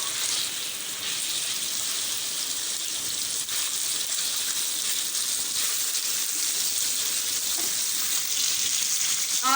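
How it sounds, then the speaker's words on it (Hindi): Sliced chicken fries in hot oil for a jalfrezi, with a steady, loud, dense hiss and crackle of sizzling that continues unbroken and close up throughout, with no talking. "8 मिनट तक मैंने इसे चिकन को फ्राई किया है ऑयल के अंदर।"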